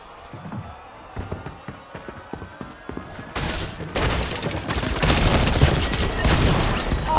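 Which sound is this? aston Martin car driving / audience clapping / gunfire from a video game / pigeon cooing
gunfire from a video game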